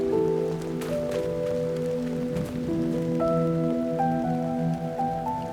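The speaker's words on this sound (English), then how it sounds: "I need to get out of the rain and get some sleep." Steady rain falls in the Minecraft video game, a continuous even patter beneath sustained musical tones, with no talking.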